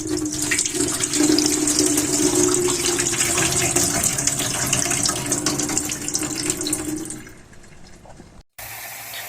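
Cooking water from boiled chicken is poured off into a sink in a steady, close gush that runs for about seven seconds, then tapers and stops.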